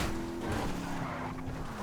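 A Ford GT in GTA Online drives and skids, a steady engine drone with a sustained tire squeal running through the moment, loud and close with no voices.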